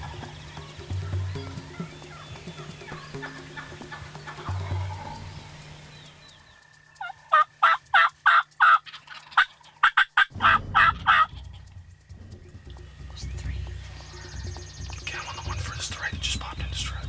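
Wild turkeys gobble from the roost, a string of loud, rapid gobbles in bursts, fairly close, while hushed voices whisper before and after.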